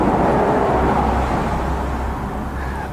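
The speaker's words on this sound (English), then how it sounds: "Sorry about the traffic noise" Road traffic rumbles steadily with a broad low roar from passing vehicles that fades slightly toward the end, with no voices over it.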